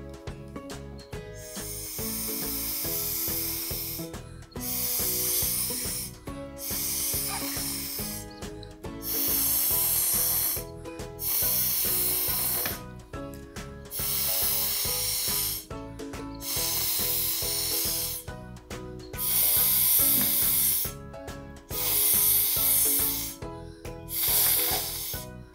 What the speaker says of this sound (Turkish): Şimdi elimize pipetimizi alıyoruz ve kuvvetli bir şekilde üflüyoruz.